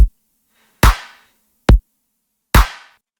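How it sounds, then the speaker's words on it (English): A simple future riddim drum pattern of punchy kicks alternating with claps, four hits spaced evenly with short decaying tails and silence between, loud and dry. "We're going to lay down a simple kick and clap pattern"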